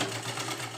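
A sewing machine stitches a cut piping strip onto a princess-cut blouse with no lining, running as a steady, continuous close-up whir for the whole short moment, with no voice over it.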